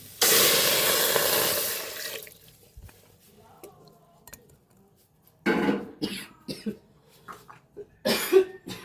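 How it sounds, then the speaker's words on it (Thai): Water poured into a pot of toasted herbs, a loud rushing pour for about two seconds, then quieter drips and bursts of bubbling and clatter. "หลังจากที่เขาคั่วกลิ้ง เครื่องสมุนไพร เสร็จเรียบร้อยแล้วเราจะเทน้ำลงไปแล้วนะจ๊ะทุกคน"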